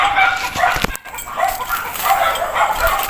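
Dogs at a mountain home barking and yipping in short, sharp bursts close by, several barks overlapping over about three seconds with a brief pause in the middle.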